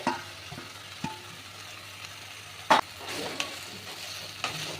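Prawns and pointed gourd stirred into fried spices in a pan for a prawn dopeyaza, a soft sizzle under occasional scraping spoon strokes, one louder clatter midway; close and quiet, with no talk.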